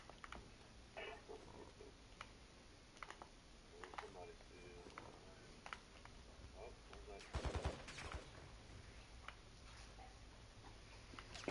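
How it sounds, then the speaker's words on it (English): Gunfire in a Call of Duty DMZ match, with scattered shots and short bursts popping at a distance and one heavier, closer volley near the end, while players talk over it. "They're shooting us."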